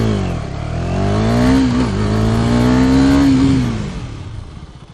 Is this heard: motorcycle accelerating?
yes